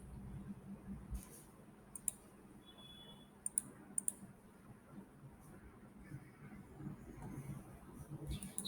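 A computer mouse clicking on a desk, several faint, sharp single clicks spread apart over a quiet room hum.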